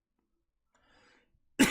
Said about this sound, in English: Pardon the cough.